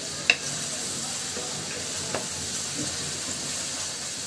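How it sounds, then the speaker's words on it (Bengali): Onions frying in a pan to a deep brown, a steady soft sizzle with a couple of brief scraping stirs, no voices. "পেঁয়াজটা আমি খুব সুন্দর করে লাল লাল করে ভাজি করে নিব, একেবারে বেরেস্তার মতো"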